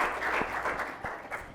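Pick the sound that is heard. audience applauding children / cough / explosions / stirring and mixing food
audience applauding children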